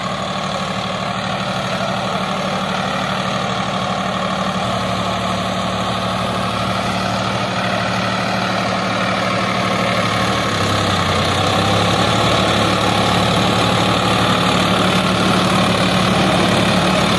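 A Sonalika Maharaja or Swaraj 744 FE tractor diesel engine runs continuously, a loud, steady, close throbbing drone whose pitch dips slightly partway through, with no talking over it.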